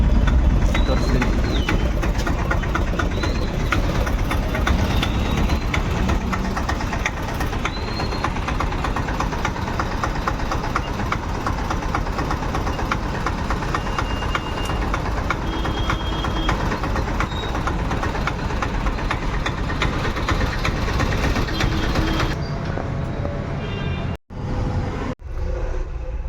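Engine of a goods vehicle idling during an emission test on a Bangalore street, a steady, close diesel rumble running throughout beneath someone talking, cutting off briefly near the end.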